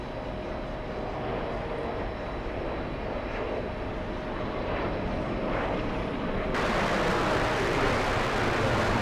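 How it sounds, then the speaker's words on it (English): A business jet taxiing at an airport during a busy diplomatic week, heard as a steady, fairly distant engine roar and whine that swells louder near the end. "This must be one of the exec jets"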